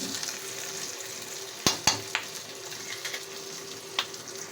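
A dalagang bukid fish fries in a pan after being flipped, with a steady hiss of sizzling oil, two sharp clacks of the turner against the pan, then a few lighter taps and pops.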